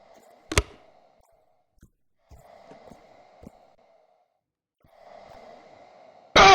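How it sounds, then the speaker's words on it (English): Heavy, slow breathing in the dark of the horror game Are You Awake, two drawn-out breaths separated by near silence, with a sharp click early on and a loud burst at the very end. "who is breathing like that?"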